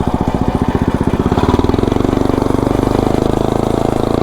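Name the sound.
lawnmower with snowblower engine driving in third gear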